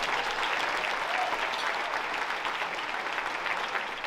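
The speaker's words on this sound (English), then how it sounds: "Let's give them one more round of applause" Steady applause from a luncheon audience fills the whole moment, a dense, even patter of many hands clapping at moderate loudness with no break.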